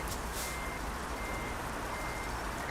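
A heavy truck reversing in Euro Truck Simulator 2 gives out steady, repeated backup beeps over a constant engine rumble, heard clearly with no talking.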